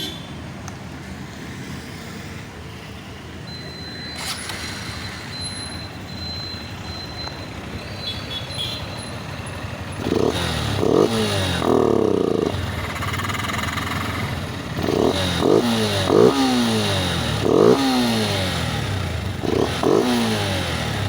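Honda CB200X motorcycle fitted with a K&N air filter, idling steadily and then blipped through a series of sharp revs that rise and fall, close and fairly loud.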